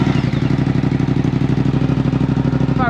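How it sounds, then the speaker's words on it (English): A Suzuki GSX-8S motorcycle fitted with an airbox mod idles up close, a loud, steady, rhythmic engine chug with some clattering mechanical texture throughout. "I'll start the bike up for you, but I don't know if it'll come through on the video."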